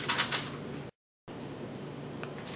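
A yam tuber being peeled by hand, giving light scraping and scratching strokes at close range, with a short stretch of dead silence partway through and no talking.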